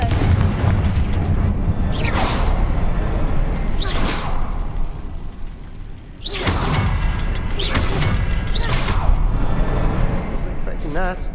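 Confringo spell blasts boom through Hogwarts Legacy gameplay. Several sharp whooshing explosions land a few seconds apart over steady background combat noise, close and loud, with a player's voice shouting in between.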